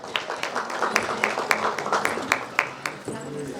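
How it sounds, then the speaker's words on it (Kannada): An audience at a film press meet applauds with scattered, uneven hand claps of moderate loudness, mixed with some voices in the room. "ಓಕೆ, ಹರ್ಷಿತಾ ಅವ್ರಿಗೆ ಬರಲಿ ಜೋರಾದ ಚಪ್ಪಾಳೆ"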